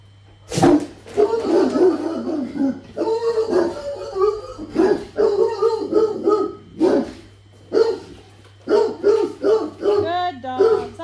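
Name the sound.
dogs barking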